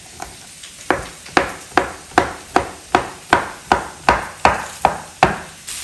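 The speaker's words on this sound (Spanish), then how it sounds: "También voy a cortar mi jamón. Lo voy a hacer en cubitos." A knife cuts ham into cubes on a cutting board, making about a dozen sharp, evenly spaced chopping knocks. The chopping is loud and close, with no talking.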